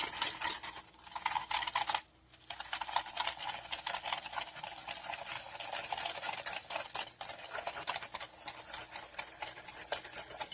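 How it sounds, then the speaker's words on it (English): A whisk beats vanilla pastry cream mixture with cornstarch in a bowl, giving a continuous close, scratchy swishing with rapid rhythmic ticks against the bowl, briefly pausing near the start. "So we have this here in this bowl here. And then you want to whisk this together."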